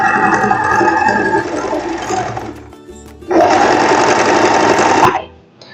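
Sewing machine running steadily along a seam on a lace dress, a sustained whir that pauses briefly, then resumes louder and close before cutting off, with no talking.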